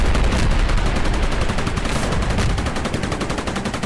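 A tank in Garry's Mod fires at Godzilla, a loud, continuous rapid-fire barrage of close shots, steady and dense throughout with no pauses.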